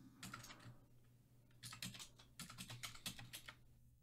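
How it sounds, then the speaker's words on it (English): Keys tapped on a computer keyboard while entering numbers into an image-size field in Blender, a quick run of close, crisp clicks in two short bursts with a brief pause between. "I would have to type in 1920 by 1080."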